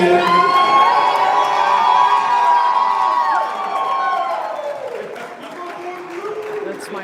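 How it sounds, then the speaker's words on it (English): Wedding reception guests cheering and shouting as a crowd, loud and sustained with whoops and high voices, tapering somewhat toward the end; little distinct clapping stands out. "One more time, big round of applause for all"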